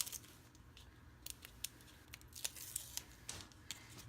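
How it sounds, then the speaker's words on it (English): Tape is peeled off a book cover during binding: faint, close crackling and short sticky ripping bursts come in irregular snaps over a quiet background. "I'm going to pull tape off of one"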